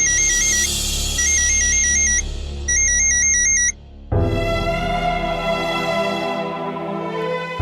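An incoming call on a phone rings out in a beeping electronic pattern, three short bursts, then gives way to a sustained melodic ringtone that fades gradually.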